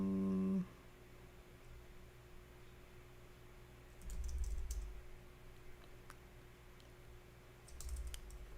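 Faint computer keyboard typing comes in two short, quiet bursts of quick key clicks, separated by a lull, in an otherwise hushed room after a brief tone at the start.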